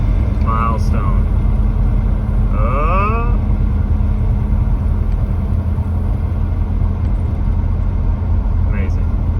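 A Ford Torino driving on its first run after a transmission seal repair, with a steady low engine rumble throughout and brief voices heard over it.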